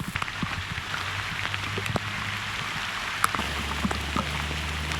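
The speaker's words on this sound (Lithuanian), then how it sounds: "čia jau lietus lyja kaip reikalas" Heavy rain pours steadily outdoors at a campfire spot during a motorcycle trip, a dense continuous hiss with scattered louder drops and splashes, plus a low steady hum underneath.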